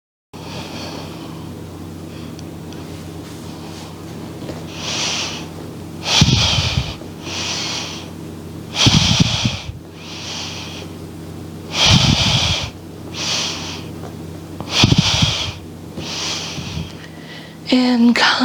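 Forceful yoga breaths come in short bursts at a steady pace, each sharp exhale hissing through the nose at close range over a low background hum.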